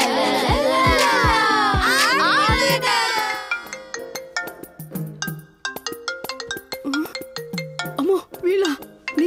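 Mobile phone ringing with an incoming call in a Telugu film scene, a melodic ringtone of repeating tones playing loudly throughout with some voices and background music mixed in.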